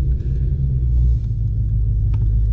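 A 2020 Shelby GT500 with the Carbon Fiber Track Pack idles nearby with fiberglass packed around its exhaust tips, giving a deep, steady, muffled low rumble that runs unbroken for a couple of seconds.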